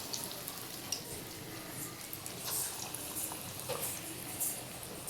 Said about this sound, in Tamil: எண்ணெய் நல்லா காஞ்சிட்ருக்கு போண்டா போட்டு எடுத்துக்கலாம்